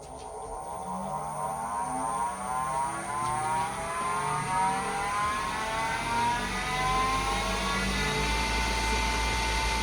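A Grizzly G0766 wood lathe spins up at high speed, its motor whine rising steadily in pitch as it accelerates, continuous and fairly loud with no talking.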